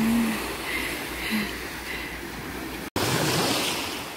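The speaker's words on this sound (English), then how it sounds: "The sound of the waves." Ocean waves washing onto a beach with a sandbar: a continuous, broad rushing wash with gentle swells, steady and fairly loud, with a brief dropout near the end and no talking.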